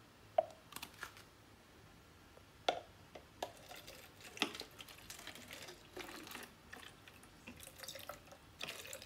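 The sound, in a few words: water poured from one bottle into another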